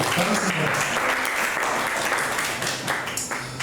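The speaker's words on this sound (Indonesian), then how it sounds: "Tepuk tangan dong buat Mira." An audience at a university public-speaking class gives steady, dense applause for a participant named Mira, a close, continuous wash of clapping lasting a few seconds.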